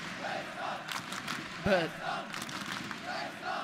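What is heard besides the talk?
esports crowd cheering at CS:GO match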